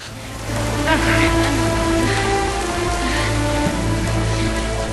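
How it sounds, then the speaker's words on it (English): Heavy rain pours steadily on the ground in a muddy outdoor scene from the Xena TV series, a dense, loud patter with a low rumble beneath it and faint voices. "through the rain and the mud"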